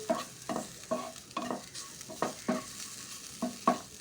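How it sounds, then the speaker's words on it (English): Grated coconut frying in a pan is stirred until slightly brown, rhythmic scraping strokes about twice a second over a soft sizzle. "mix it well till coconut turns slightly brown"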